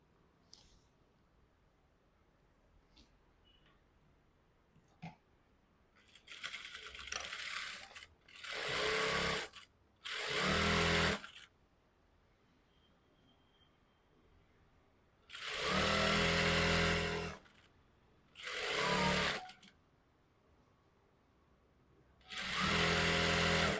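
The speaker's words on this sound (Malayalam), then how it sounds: "അതേപോലെ ഇവിടെയും സ്റ്റിച്ച് ചെയ്യുക" A sewing machine stitches a Patiala salwar in several separate runs of loud, rapid mechanical whirring, each lasting a second or more, with quiet gaps between them.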